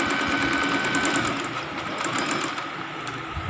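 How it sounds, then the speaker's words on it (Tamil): Close, steady whir and rapid needle chatter of a sewing machine stitching the hem of a kurti, running continuously and fairly loud with no talking. "கடைசி முடிவு எண்டு வர இந்த மாதிரி ஒரு தையல் போட்டுறணும்"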